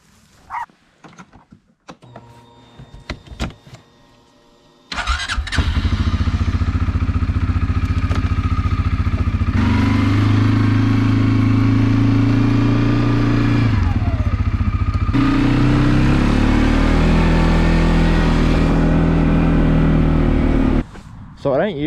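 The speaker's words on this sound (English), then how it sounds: "So I don't usually have the quad bike here to help me set up new paddocks, but Clint" A quad bike engine on a cattle farm starts up after a few seconds of quiet handling noise, then runs loud and steady close by with shifting revs as it drives across the paddocks.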